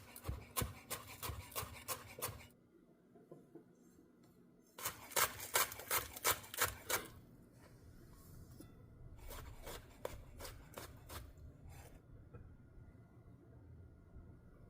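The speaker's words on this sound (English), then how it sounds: "I'm going to chop up some cornichons, a scallion, fresh dill" Knife chopping cornichons, a scallion and fresh dill on a board, heard as quick bursts of crisp, rapid taps in several runs with short pauses between them, close and fairly quiet, no talking.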